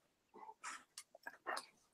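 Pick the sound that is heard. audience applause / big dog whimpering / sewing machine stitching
big dog whimpering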